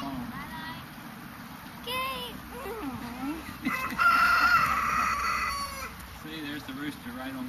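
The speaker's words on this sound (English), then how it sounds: "See, there's the rooster right on cue." A rooster crows loudly in the middle of the clip on a farm, a long drawn-out call, while a voice talks before and after over faint outdoor noise.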